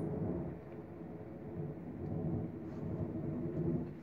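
Low, rolling rumble of thunder about three miles away during rain, swelling and fading in waves, steady and muffled, with no voices.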